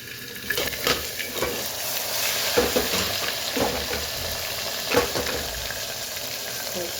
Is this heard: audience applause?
no